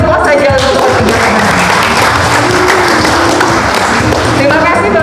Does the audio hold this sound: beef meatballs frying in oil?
no